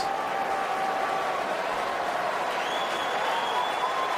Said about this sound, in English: Crowd likes it